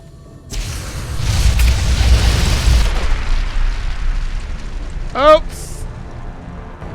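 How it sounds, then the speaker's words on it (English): A grenade goes off in Fallout: New Vegas with a loud, deep explosion and a rumbling blast that rolls on for a couple of seconds. A short voiced exclamation follows. "So if I like throw a grenade."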